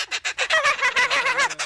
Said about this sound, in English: It's called a laughing kookaburra.